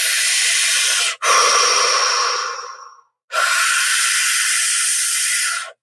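Breath of fire breathing exercise in a guided session: two long, loud, hissing breaths, the first tapering off slowly, then a short silence before the second rushes in strongly and holds steady.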